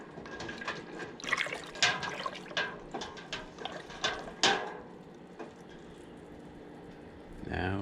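Apple pie moonshine mixture made with Everclear 190 and apple juice and cider gets stirred up close in a container, with irregular wet sloshing and sharp clinks that come in bursts and then settle.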